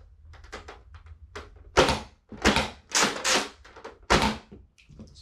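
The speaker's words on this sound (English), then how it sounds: "So I'm gonna fire 1 dart at a time." A Nerf Mega TwinShock foam dart blaster is cycled and fired, producing a series of sharp plastic thunks and clacks up close, several separate loud bursts with quiet gaps between.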